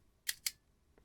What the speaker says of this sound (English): So now the shutter can be fired.